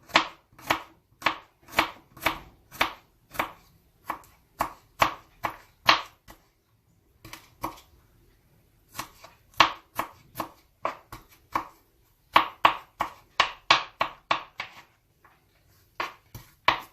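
A knife chops garlic steadily on a cutting board in quick rhythmic strokes, pausing briefly midway before resuming in faster bursts; close and crisp, no talking.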